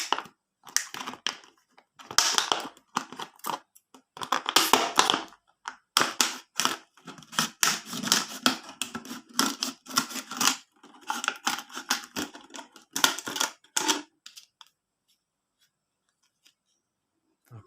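Scissors cut through an empty plastic mineral water bottle in a long run of crisp, crunchy snips and crackles, close and steady for about fourteen seconds before falling quiet.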